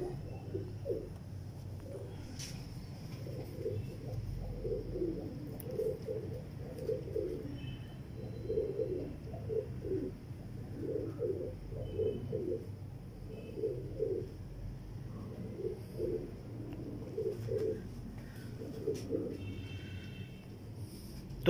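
German-coloured pigeons coo in a loft, soft rolling coos repeating in regular bursts close to the microphone over a low steady hum, with faint occasional voices in the background.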